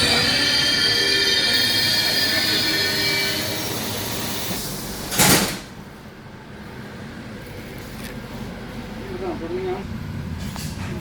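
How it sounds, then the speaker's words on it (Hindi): A train pulls into a railway station in Italy, with a steady rumble and a high metallic squeal. A short loud burst follows midway, then the sound settles into a quieter idle. "ये हमारी ट्रेन भी आ गई और हम यहाँ बैठेंगे अभी इसमें।"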